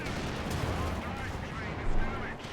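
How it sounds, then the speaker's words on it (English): Battle noise in Company of Heroes 2 during a match, a dense continuous rumble of distant gunfire and explosions, steady and heavy without distinct gaps, with a faint voice underneath. "Shot fired."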